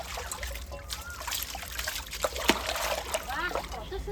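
Water splashes and trickles over a scrubbed kitchen utensil as it is rinsed, a steady running stream with small sloshes, close up, while someone talks over it.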